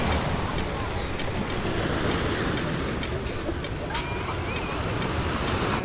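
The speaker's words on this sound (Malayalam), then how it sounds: "കടലിൻ്റെ അടുത്ത് നമ്മൾ ഇരുന്ന് കഴിഞ്ഞാൽ ആ തിരമാല വന്ന് വന്നടിച്ച് പതുക്കെ തിരിച്ചു പോകുന്ന ആ ശബ്ദമൊക്കെ നമുക്ക് കേൾക്കാനായിട്ട് പറ്റും" Sea waves wash continuously onto the pebble shore at Durdle Door, a loud, broad surf roar mixed with wind buffeting, with no speech over it.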